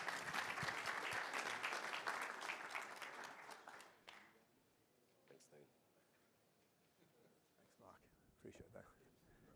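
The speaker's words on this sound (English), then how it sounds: "Dean Swan, give him a round of applause." Audience applause at a CEO business conference in Sydney greeting a keynote speaker: a loud, dense burst of clapping that fades around four seconds in, leaving quiet room noise and a few faint scattered sounds.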